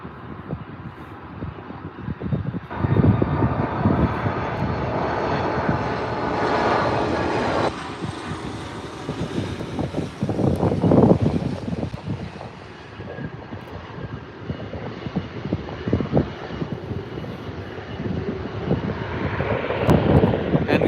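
A Boeing 737 MAX 9 airliner arriving from Washington Dulles at LAX runway 24R, its jet engines roaring loudly and steadily with gusting wind rumble, the noise swelling and easing over twenty seconds, no voices.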